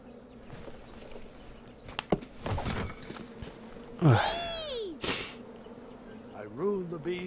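Cartoonish bee buzzing from the King's Quest video game, rising and falling whines that swoop past near the middle of a game scene with music and other effects around it.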